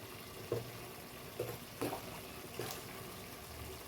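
Quiet splashes of water poured into a pot for cooking rice in several short bursts, with faint kitchen clatter between them.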